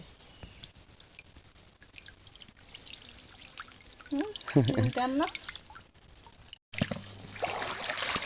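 Freshly caught crabs, shellfish and small fish being rinsed by hand in water, with sloshing, dripping and splashing close by, a louder burst of swishing toward the end, and someone talking briefly over it.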